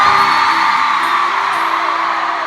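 Concert crowd cheering and whooping at a live show, a loud sustained roar of voices with high whoops on top, tapering only slightly.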